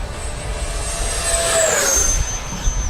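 FMS Viper 70mm electric ducted-fan RC jet at full throttle, a steady loud whine with a rising then falling pitch as it sweeps past overhead, heard alone without talk.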